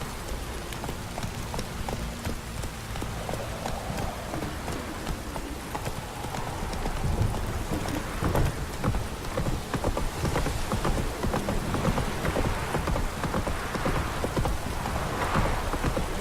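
Steady heavy rain pours throughout a scene in The Witcher 3, a dense hiss that swells louder midway, with hooves clopping underneath.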